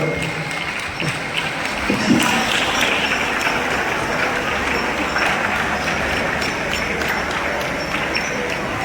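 An audience at a district youth festival held at a high school claps steadily for several seconds, a dense, even patter of applause with some crowd murmur mixed in.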